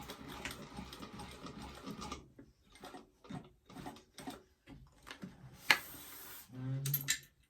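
A sewing machine runs in a series of short back-stitching bursts through a bag, loud and near, with brief pauses between runs and a sharp click near the end.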